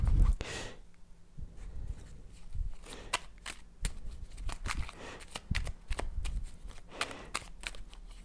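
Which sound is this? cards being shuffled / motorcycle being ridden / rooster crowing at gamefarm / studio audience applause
cards being shuffled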